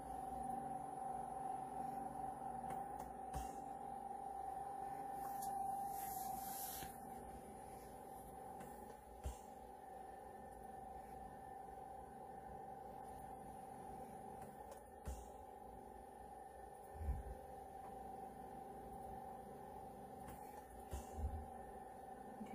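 An oxygen concentrator's steady hum, as picked up by hearing aids, drones faintly and continuously with a few soft thumps and shifts, and nobody speaks.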